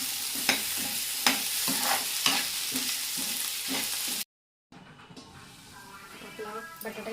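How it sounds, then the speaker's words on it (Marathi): Potato pieces stirred and sautéed in a hot pan for a fenugreek (methi) vegetable dish: repeated scraping strokes over a steady sizzle, close up, with a voice talking over it and a brief silent gap. "आपला बटाटाही चांगला परतून घ्यायला आहे।"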